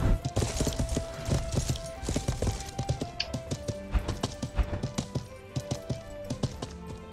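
Horse hooves gallop in the video game Life is Feudal in a fast, steady clip-clop rhythm, with busy background game sounds and no talking.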